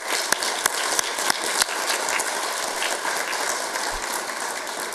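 An audience at a county design and environmental achievement awards ceremony applauds with dense, even clapping throughout, a few louder individual claps standing out early on.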